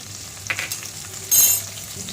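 Chopped garlic cloves and green chili crackle and sizzle in hot oil in a pan for Rajasthani dal, with a brief stirring scrape and a sharper burst of sizzling near the end.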